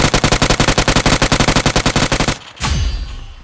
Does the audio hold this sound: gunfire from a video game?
yes